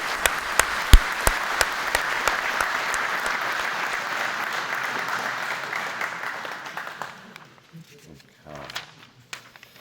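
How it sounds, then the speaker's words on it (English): Hall applause at a reef-keeping event for Julian and Tony begins with a few sharp near claps, settles into broad steady clapping, then fades out, followed by faint scattered sounds and a brief voice at the end. "can we just give a round of applause to Julian and Tony?"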